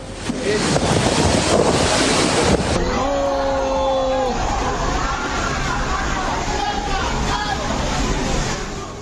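Storm-driven sea waves surge and crash along the Sicilian coast amid heavy rain, with a loud, continuous rush of surf and strong wind buffeting the microphone, and a brief tonal sound partway through.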